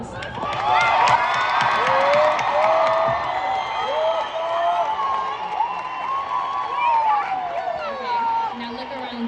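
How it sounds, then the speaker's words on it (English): An audience at a send-off ceremony cheers and applauds, with continuous crowd roar, shouting voices and clapping blending into a dense, loud wash throughout. "Please join me as we show our deepest gratitude by giving them a round of applause."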